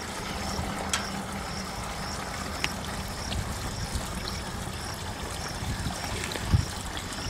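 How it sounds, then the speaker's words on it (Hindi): Water poured into a pesticide sprayer pump tank before mixing in the insecticide for a soybean field, giving a steady trickling, gurgling flow that runs throughout, with a few faint knocks. "हाँ, पहले पानी डालता हूँ।"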